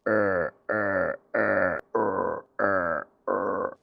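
A man imitates a monsoon frog's croak with his voice, six loud, deep, throaty croaks in an even rhythm, close and alone.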